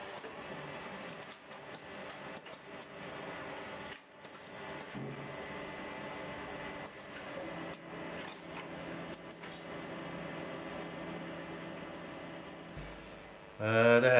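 A vinyl record pressing machine with a cooling fan for the press mould gives a steady, fairly loud mechanical whir and hum that runs throughout, with small knocks and a louder burst right at the end.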